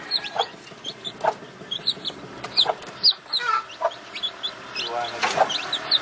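Soft, repeated clucking from a hen with newly hatched chicks shut in a dark coop, with brief high peeps scattered throughout and a voice faintly in the background.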